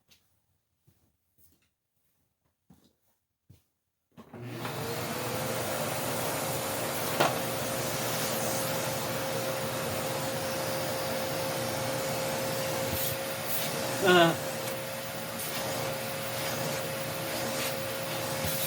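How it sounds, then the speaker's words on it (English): A few faint taps, then a Hoover Elite Rewind Plus upright vacuum cleaner switches on and runs with a steady whining roar, with occasional rattling bumps as it sucks up large chunks of debris. "vacuum up some of the big chunks off of there"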